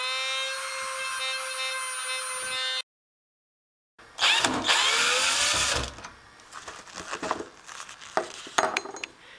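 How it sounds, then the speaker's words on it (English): A Dremel rotary tool engraves letters into a painted cabinet door. A high, steady motor whine cuts off, then returns with louder grinding and scratching as the bit bites into the wood, followed by lighter intermittent buzzing and clicks. "I use a Dremel tool to engrave the letters"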